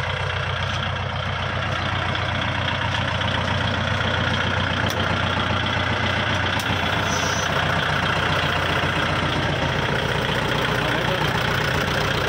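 A 2013 Kubota 47 hp tractor engine idles nearby, a loud, steady diesel chugging with an even knocking rhythm that continues unbroken.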